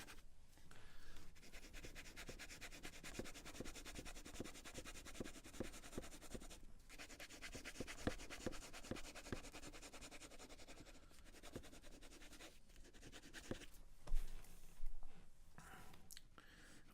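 Pencil crosshatch shading on paper, drawing angled lines across a house in a snowy landscape sketch, heard as a continuous soft scratchy rubbing with quick back-and-forth strokes, close and faint, with brief pauses.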